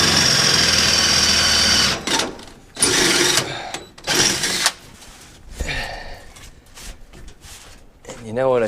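A power drill boring holes in the metal of a 1967 Chevelle whines loudly in several separate bursts, separated by pauses, with a voice speaking between the bursts.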